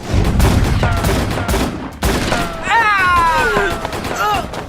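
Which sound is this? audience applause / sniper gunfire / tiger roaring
sniper gunfire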